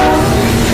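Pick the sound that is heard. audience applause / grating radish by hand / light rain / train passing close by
train passing close by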